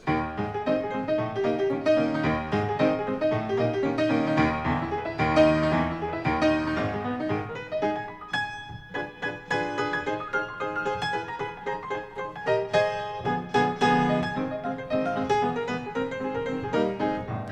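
Scott Joplin's Maple Leaf Rag plays briskly on piano, with bouncing bass notes under a syncopated melody at a steady, moderate volume, no talking.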